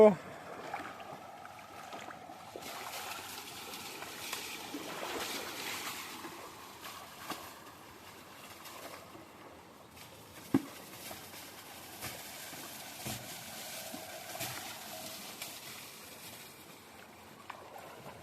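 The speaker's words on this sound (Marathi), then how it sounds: "मुलगा मोटरसायकल धुतोय" Water washing over a motorcycle in a village yard on Dussehra, a faint, steady wash of splashing and trickling with a few small knocks, low and somewhat distant throughout.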